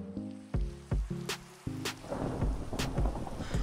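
Heavy thunder rumbles in a video game thunderstorm, with several deep booms and crashes landing close together and then giving way to a rolling wash of rain noise.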